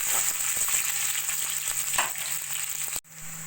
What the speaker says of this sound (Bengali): পেঁয়াজটাও একটু হালকা সোনালি করে ভেজে নেব